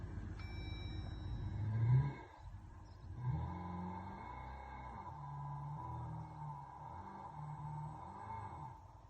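A Jeep 4xe's Thor active exhaust, heard from inside the cabin, revs in neutral with a deep synthetic rumble that swells twice and then settles into a steady low drone beneath a faint electronic tone.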